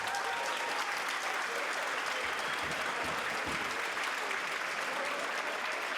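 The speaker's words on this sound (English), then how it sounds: "Please, can we have one big round of applause?" A crowd at an amateur combat-sport fight night gives a sustained round of memorial applause, dense steady clapping filling the hall without a break.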